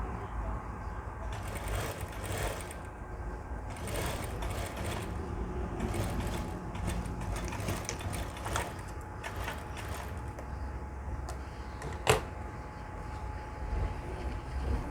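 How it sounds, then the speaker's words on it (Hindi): A sewing machine stitches the covering placket of a ladies shirt in short bursts of rapid mechanical whirring, separated by brief pauses, with a sharp click near the end and a voice talking over it. "एक सिलाई और मार दीजिए इस तरह से।"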